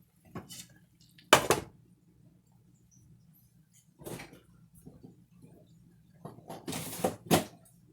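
A spoon stirring melting butter into chicken tetrazzini in a pan gives a few short scraping clinks, separated by quiet pauses, with a cluster of quick scrapes near the end and no talking.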